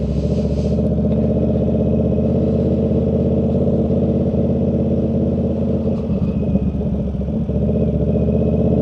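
A 1000cc motorcycle engine drones steadily and fairly loud throughout, with a slight rise and some clatter near the end as the bike rides past.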